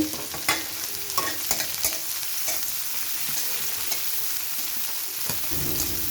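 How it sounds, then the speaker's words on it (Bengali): Onions and green chilies sizzle steadily in a hot pan while a utensil scrapes and stirs through them, with sharp clicks of metal against the pan. "এভাবে নেড়ে চেড়ে নেব"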